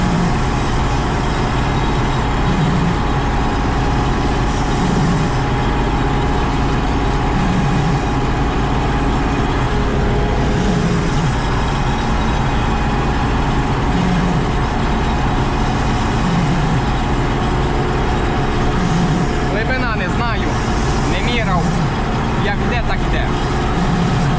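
A tractor's heavy diesel engine drones continuously up close while ploughing a dry field, loud and steady with a low chugging rumble, while a person talks over it at times.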